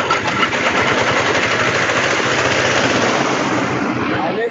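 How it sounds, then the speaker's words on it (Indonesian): A grinding machine shredding waste collected from markets roars continuously, a loud, dense mechanical churn with a fast rattling texture that holds steady throughout, close by. "ini kita giling di sini."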